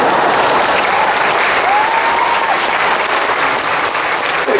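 Sustained, loud applause from a comic convention audience at a Q&A session, a dense even roar of many hands clapping continuously with a few faint whistles, no talk over it.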